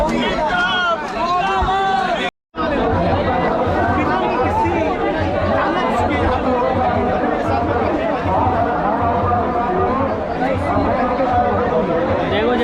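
Loud, dense chatter from a crowd at a student protest at Jantar Mantar: many overlapping voices close by with constant babble, broken by one brief moment of silence early on.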